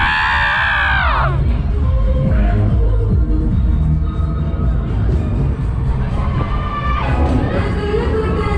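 Riders scream and cheer loudly on the Air Raid 2 fairground ride at Kirkcaldy Links Market, the shrieking crowd continuous and close above the roar of the ride and the music from the fair.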